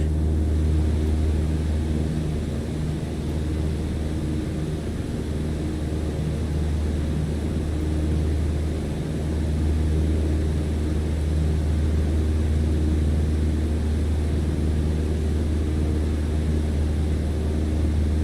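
Propeller airplane engine in Microsoft Flight Simulator 2020, a loud, steady droning hum with a low buzzing tone, holding nearly constant through the stretch with only slight dips in power, with no talking.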